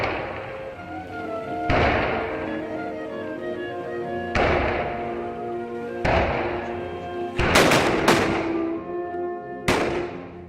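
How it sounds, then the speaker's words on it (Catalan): Arquebus shots ring out one after another during a festival procession of filaes climbing to the cemetery in Banyeres, loud sharp blasts with echoing tails, some in quick pairs, at irregular intervals. "les 10 filaes pugen disparant els arcabussos fins el cementeri"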